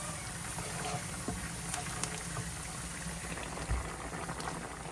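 Onions fry in a pan for mustard hilsa, a dense, steady sizzle and bubbling hiss throughout, close and moderately loud with no talk.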